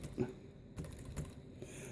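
Keys pressed on a Dell Inspiron 6000 laptop keyboard, a quiet run of soft, irregular clicks and taps close by with faint room noise between the strokes.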